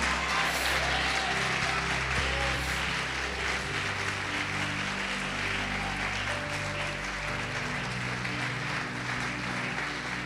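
A church congregation claps and cheers in a steady, diffuse wash of applause at moderate distance. It carries on without a break, with faint crowd murmur and no clear talk.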